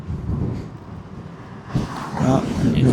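Wind buffeting the microphone while riding an electric scooter downhill, low rumbling gusts that swell and grow louder midway through, with a voice speaking over the noise.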